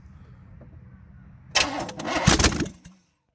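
A V8 engine running only on starter fluid cranks and briefly fires with a loud rough roar for about a second, then cuts out into silence after a low idle-like hum.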